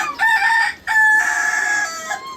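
A rooster crows loudly close by, two long drawn-out calls in quick succession, with no other sounds around them.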